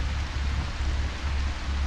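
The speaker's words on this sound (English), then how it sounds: "And it's raining." Steady rain in the video game A Quiet Place: The Road Ahead hisses as a constant, even wash of noise, with no pauses or other sounds standing out.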